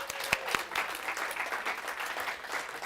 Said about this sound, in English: let's give another round of applause to John and Justin